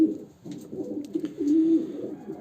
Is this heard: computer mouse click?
no